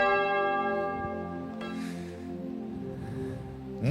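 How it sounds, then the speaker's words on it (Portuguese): A church bell rung by a sacristan during a Catholic service rings steadily with a rich, sustained tone, its overlapping strikes resonating loudly with no voices. "toca o sino, sacristão"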